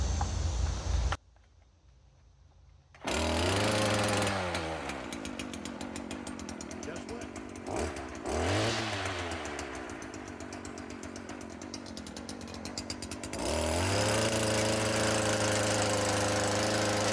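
Gas string trimmer with a newly replaced drive shaft, its motor starting with a brief gap, then running loud and close with rising and falling revs and a steady droning whine throughout.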